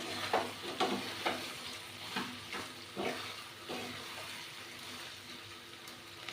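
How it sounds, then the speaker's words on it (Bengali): Ground white mustard and green chili paste fries in a pan, a faint soft sizzle with a rhythmic series of scraping stirs, close and quiet, with no talk. "2 চামচ সাদা সর্ষে আর কাঁচা লঙ্কা দিয়ে বেটে রেখেছিলাম, সেটা দিয়ে দেবো। একটুখানি কষে নেব।"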